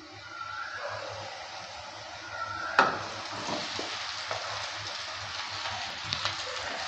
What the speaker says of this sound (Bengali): পাহাড়ি শিমের বীজের পেস্টটা এবার দিয়ে দিচ্ছি।